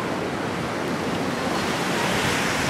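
Surf rolling onto the beach at Boucan Canot, a steady, loud wash of breaking waves with wind noise, continuous throughout and without speech.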